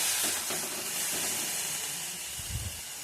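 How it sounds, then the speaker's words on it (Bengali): Shredded cabbage sizzles and hisses steadily in a hot pan as it is stirred, with a soft scrape near the end and no talking. "দিয়ে একটু নাড়াচাড়া করে নেব।"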